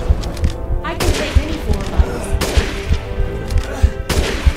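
Gunfire in the Resident Evil Village video game: repeated loud shots and thudding bursts, including a blast, recur every second or so over continuous rumbling game noise, with a player's voice talking over it.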